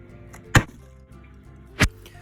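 Two sharp knife chops through red cabbage on a chopping board, about a second apart, with quiet room tone between them.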